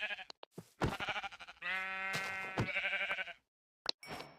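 A lamb bleats several times up close, wavering cries separated by short pauses and a few scattered knocks, with no one talking.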